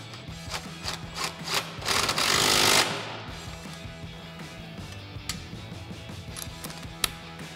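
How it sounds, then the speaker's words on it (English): Impact wrench driving a 13 mm socket on an extension, tightening coil-over mounting bolts on a 1994-2004 Ford Mustang; one loud rattling burst of hammering, then quieter shop noise. "grab our 13 mil socket and extension on our impact and get these tightened down"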